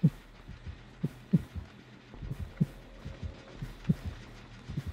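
A heartbeat from the video game Dead by Daylight thumps in paired low beats at roughly one-second intervals, soft and steady over a faint hum.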